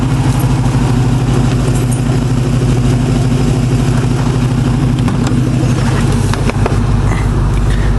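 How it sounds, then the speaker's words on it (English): An LS3 V8 idles steadily after a remote start, giving a continuous deep, loud rumble with a slight lope that holds even and close throughout, with no voices. "LS3 sounds good. Kind of like a muscle car, but still very docile."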